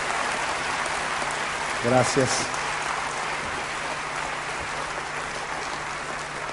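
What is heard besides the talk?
applause from the congregation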